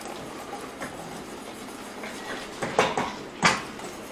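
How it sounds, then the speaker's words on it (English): A whisk works cream and xanthan gum into keto cream of mushroom soup in a pot on the stovetop, with soft stirring and a few sharp metallic clinks against the pot toward the end, no talking. "I'm going to whisk this in."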